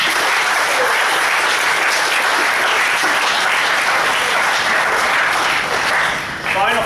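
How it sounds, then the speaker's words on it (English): An audience at a youth awards ceremony gives a loud, sustained round of clapping that fills the room evenly and fades only at the very end. "That's our round of applause to the 12s and 14s as well."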